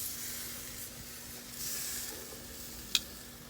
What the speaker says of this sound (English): If I move the steak a little bit, I'll get a minimal flare-up